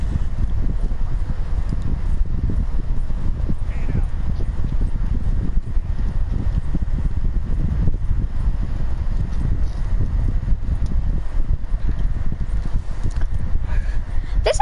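Horse hooves clip-clopping steadily in Red Dead Redemption 2, a continuous rhythmic trot under wind noise and outdoor rustling, moderately loud throughout.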